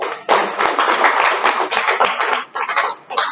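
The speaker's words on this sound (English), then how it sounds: "let's hear a thundering round of applause for the speaker and wonderful evaluation" Loud, dense applause fills a Toastmasters meeting room after a speaker's evaluation, steady clapping from a close audience with a few sharper claps, fading briefly near the end before picking up again.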